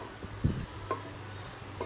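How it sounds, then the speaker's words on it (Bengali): Potato and cauliflower curry with cumin powder being stirred in a pan, a few soft scrapes over a faint, close sizzle. "ভালো করে মিশিয়ে নেব।"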